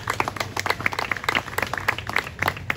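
Applause from the gathering at a St John the Baptist celebration in a Masonic lodge: a steady patter of many hands clapping, moderately loud and continuous, with a voice faintly present beneath.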